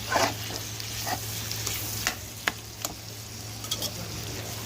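Potato curry being stirred and fried in a pan, with soft sizzling and scraping spoon strokes near and alone, a few sharper clinks against the pan.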